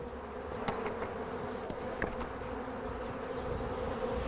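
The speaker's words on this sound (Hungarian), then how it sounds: "Ez a méh zúgás gondolom már visszacseng a füledbe alvás közben is." Honeybees buzzing at an open hive frame, a dense continuous drone from many bees close by, with a few brief clicks and knocks over the steady hum.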